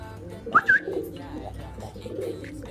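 A few brief calls from racing pigeons cooing close by, followed by a low murmuring background with faint voices.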